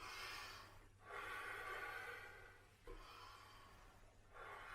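Slow, deliberate breaths during a calm mental-training moment in a kids' Japanese sports workout, three long airy inhale-exhale cycles, close and steady, with no talking.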